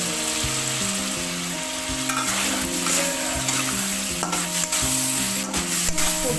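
Vegetables fry in a pan with cumin, green chili paste and ginger paste, a loud close sizzle under repeated scraping strokes of a spatula, with steady stirring throughout and no voices.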